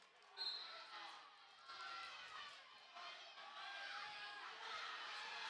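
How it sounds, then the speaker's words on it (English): Fans at a high school section wrestling tournament cheer and shout from the stands, a steady distant crowd roar that swells in bursts, with an announcer talking over it. "the Bagley fans getting into it."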